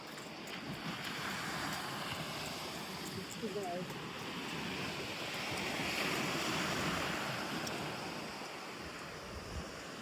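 Sea waves washing in continuously with a broad roar, mixed with wind buffeting the microphone; a brief voice surfaces faintly midway.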